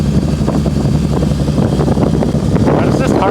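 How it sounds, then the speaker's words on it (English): A Mitsubishi Evo with an ETS exhaust and AGT turbo drives along, a loud, steady engine drone mixed with rushing wind and road noise heard from inside or close by. "Why does this car sound so good? This ETS exhaust paired with the AGT turbo."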